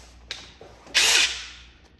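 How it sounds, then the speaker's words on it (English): DeWalt Atomic Series impact driver giving one short burst of about a third of a second, loud and close, with a click just before and a brief mechanical rattle, then fading off. "Now in the big pocket, I have my Atomic Series DeWalt Impact."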